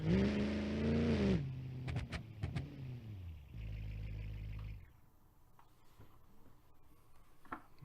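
A Hemi engine in a BeamNG.drive racing game roars loudly through a heavy rev, drops away, and then gives a few short blips. A second sustained rev follows before the engine settles to a low idle.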